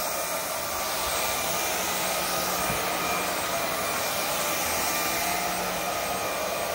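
A Vaclab X11 Pro vacuum cleaner runs with a steady, loud, close whooshing motor roar that holds constant throughout and has no talk over it.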